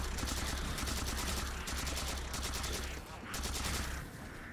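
A carbine-like rifle in Halo 4 fires in rapid, evenly spaced bursts over a low humming game ambience, loud and close, with short pauses between volleys.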